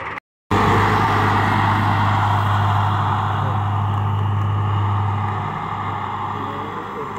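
A tractor engine drones loud and steady up close, pushing a stuck 22-wheeler truck in a village, its low hum holding for several seconds after a brief cut and easing slightly toward the end.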